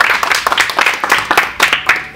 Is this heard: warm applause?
yes